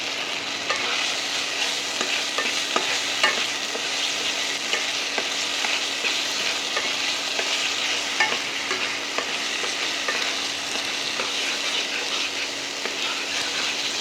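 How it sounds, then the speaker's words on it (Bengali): Turmeric and chili powder with spices frying in a pan for prawn kofta curry, a steady broadband sizzle with scattered crackles and occasional stirring scrapes, close and continuous throughout without talk. "এটা একটু ভাজা ভাজা হলে"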